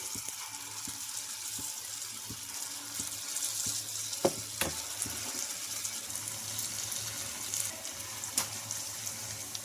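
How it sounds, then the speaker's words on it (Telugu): Corn bondas frying in hot oil in a kadai, a steady soft hiss of bubbling oil with a few light clicks, close and continuous with no talking. "ఒక నిమిషం పాటు ఆయిల్లో బాగా ఫ్రై అయినాక ఇంకొక వైపుకి అయితే టర్న్ చేసుకోవాలి"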